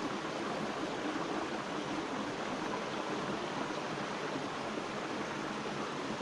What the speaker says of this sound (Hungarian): Itt a kis vízesésnél.